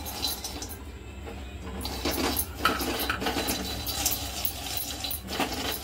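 Peanuts are dry-roasted in a pan for sabudana ladoos, rattling and scraping against the metal as they are stirred repeatedly, close by and moderately loud, with no speech.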